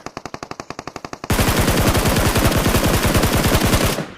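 Automatic weapon fire in a shooting video game, a short burst of spaced rapid shots followed by a sustained loud continuous volley that cuts off abruptly, close and dominant.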